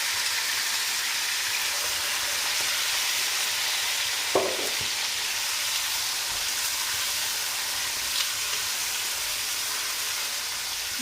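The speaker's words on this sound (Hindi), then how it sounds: "अब इसमें जाएगा ये चिकन। ठीक है, इसको फ्राई करेंगे आप।" Chicken frying in hot oil with cumin and whole spices, a steady, dense sizzle that runs loud and unbroken throughout, with a brief clink of a utensil partway through.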